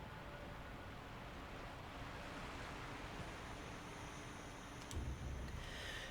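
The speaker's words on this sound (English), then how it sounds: "the noise of the roaring waterfall is deafening" A roaring waterfall fills an indoor room in the video game Sekiro: Shadows Die Twice, a steady, dense wash of rushing water that stays loud and even throughout, with a brief swell near the end.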